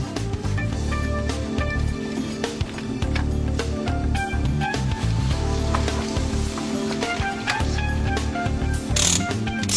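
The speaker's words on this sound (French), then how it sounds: "serrez la vis de la poulie de vilebrequin" A ratchet wrench clicks in quick bursts while the crankshaft pulley screw is tightened on a 1.4 HDi DV4TD diesel engine, with close metallic ratcheting and clanks over a low background hum.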